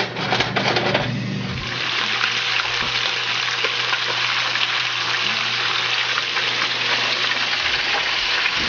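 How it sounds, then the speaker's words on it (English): Three red snapper fish frying in hot oil, a loud, continuous bubbling sizzle that surges as they go in and then holds steady, close up and without talk. "So we'll just put the three fish in there and leave those fish to fry a minute."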